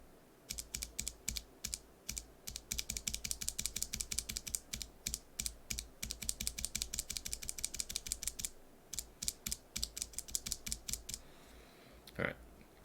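NovelKeys BOX Cream mechanical keyboard switch pressed repeatedly without a keycap, crisp close clacks in quick irregular bursts with short pauses, ending with a faint squeaky sound.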